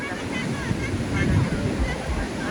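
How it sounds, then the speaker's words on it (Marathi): Ocean waves break and rush in a continuous, close roar, buffeted by wind against the microphone. "आता लाटांचा प्रवाह वाढलाय जास्त"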